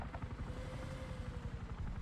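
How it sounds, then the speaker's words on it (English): A helicopter flies overhead in a video game, a loud, close rhythmic rotor thumping with a steady chopping pulse and a thin whine that runs through the whole short stretch. "Helicopter above you."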